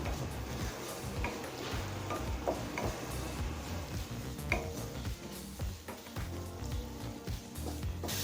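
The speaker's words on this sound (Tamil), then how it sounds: "இது எல்லாத்தையும் சேர்த்து நல்லா வதக்கிக்கலாங்க." Chicken gravy masala sautéing in oil in a pan, a low continuous sizzle with frequent light spoon ticks and scrapes against the vessel throughout.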